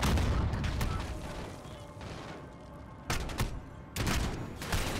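Gunfire in the video game Modern Warfare: loud, dense bursts of shots with booming impacts, continuous through the clip with sharper volleys near the end.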